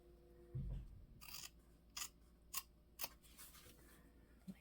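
Scissors snip through a fabric seam allowance while a bag is sewn, several short crisp cuts in an uneven rhythm, close and fairly quiet against a low room hum.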